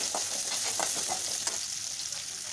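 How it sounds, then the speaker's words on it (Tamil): Sliced small onions fry in hot oil for a village-style fish gravy, a steady close sizzle with a few soft stirring scrapes in the first half, continuous and moderately loud. "அந்த தொளிச்சு வச்ச வெங்காயம் போட்டு நல்லா வணக்கினதுக்கப்புறமா"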